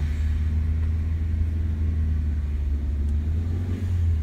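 Car engine pulling away during a driving lesson, a steady close low rumble that holds loud throughout with slight revving swells, no talk over it.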